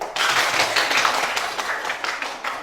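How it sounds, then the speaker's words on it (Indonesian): Schoolchildren in a classroom give a short round of brisk applause, with several pairs of hands clapping together in a lively burst. "Tepuk tangan dulu"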